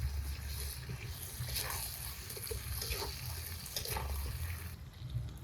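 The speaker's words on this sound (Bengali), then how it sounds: "এখন ঝোলের জল দিই" Water is poured into a pot of meat curry with potatoes and tomatoes at an outdoor picnic, making a steady close gush and splash that runs continuously for several seconds, with no talking over it.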